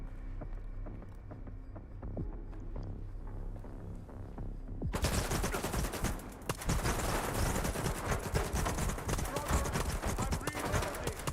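Gunfire in the video game S.T.A.L.K.E.R. 2: Heart of Chornobyl, with sparse shots at first, then loud, rapid bursts of automatic fire filling the second half, while someone talks over it.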